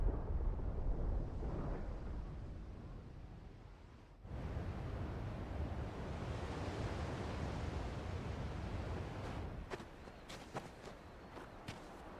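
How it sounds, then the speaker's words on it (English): Thunder in Final Fantasy XVI, a deep rolling rumble that swells and sustains for several seconds, then fades as sharper clicks and faint effects take over. "Sounds like thunder."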